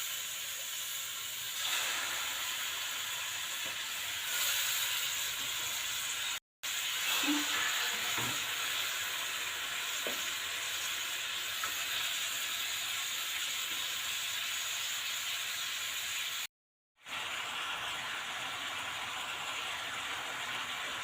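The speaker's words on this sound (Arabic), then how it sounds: "مجرد ما تسخن شوية السمنة هننزل بالفراخ نشوحها" Chicken frying in hot ghee over oil in a pan, giving a steady broadband hiss and sizzle that runs nearly unbroken, with only two brief dropouts.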